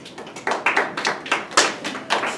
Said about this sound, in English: A smattering of polite applause.